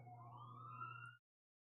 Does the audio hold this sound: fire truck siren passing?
yes